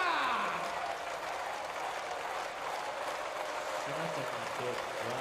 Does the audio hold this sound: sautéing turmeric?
no